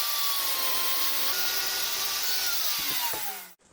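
A power tool cuts a 190 mm length from a pipe, a loud, steady, high whine that shifts slightly in pitch and then cuts off abruptly at the end.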